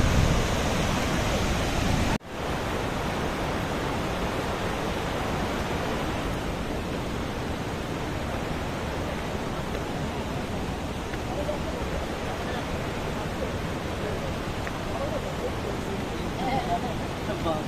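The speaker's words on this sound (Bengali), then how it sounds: "ঝাড়খণ্ডের এটা সবচেয়ে উঁচু থেকে পড়ে জলপ্রপাতটা" Lodh waterfall, the highest falls in Jharkhand, pours from a great height as a steady, loud broadband roar with no break except a brief dip near the start; a voice speaks over the rushing water.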